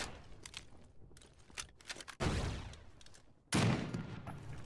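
Gunfire in the survival shooter game The Front during a PvE raid, irregular bursts of distant shots followed by two loud, dense volleys close by, with no talk.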